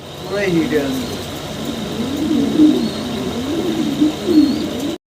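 A pair of large black Roman pigeons coo close by, a series of low, rolling repeated coos with a faint higher chirp, while someone talks over them.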